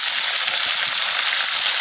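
Minced meat kebabs frying in a hot pan give a dense, steady sizzle, loud and unbroken, with no voices over it.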